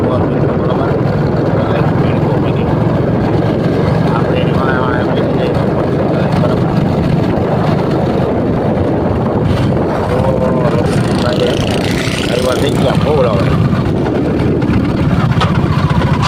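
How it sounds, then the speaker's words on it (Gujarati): Strong outdoor wind buffets the microphone with a loud, constant low roar and rumble, and someone talks over it at times. "પવનનો અવાજ આવતો હોય, પવન બહુ હોય"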